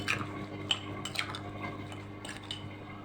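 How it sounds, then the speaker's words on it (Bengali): A spoon stirring orange juice with black pepper in a glass, light metallic clinks and taps against the glass in an irregular rhythm over soft liquid swishing, close and fairly quiet. "এবারে এটাকে ভালো করে নাড়াচাড়া দিয়ে নেব।"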